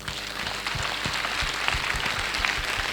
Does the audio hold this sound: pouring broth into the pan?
no